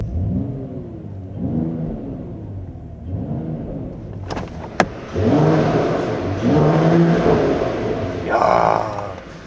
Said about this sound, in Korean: 배기가 그렇게 막 다이나믹하게 터지지는 않습니다